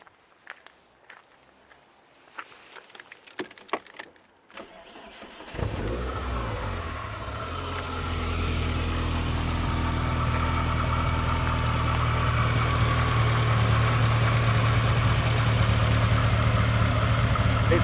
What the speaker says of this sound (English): I'm going to start off under the bonnet, start the car up